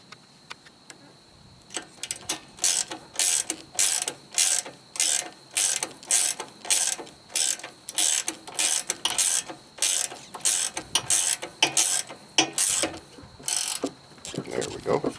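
A hand ratchet clicks in quick repeated bursts while tightening the bolts on a carburetor during a diaphragm replacement, the steady pawl ticks close and loud with no talk.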